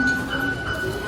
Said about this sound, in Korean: 지하철 도착했습니다.